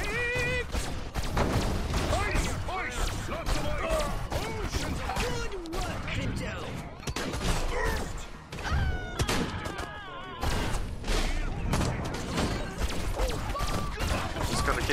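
Rapid gunfire and crashing blasts erupt in the video game Destroy All Humans, loud bursts packed densely throughout, with game voices talking over the shooting.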